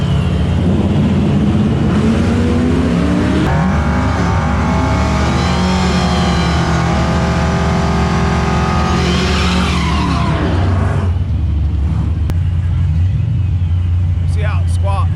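A supercharged car with new control arms launches hard, its engine revving loudly with rising tones and tires squealing for several seconds before it cuts off sharply.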